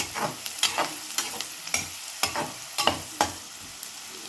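Finely chopped onions fry in a pan for a goat head curry, with a steady sizzle broken by repeated close scraping stirs of a spoon at an uneven rhythm. No one speaks.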